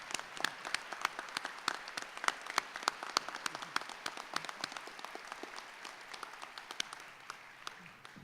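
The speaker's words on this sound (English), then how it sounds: "Join me in a round of applause." Steady applause from a commencement audience saluting faculty and staff, many hands clapping evenly for the full stretch, sustained and moderately distant with no talking over it.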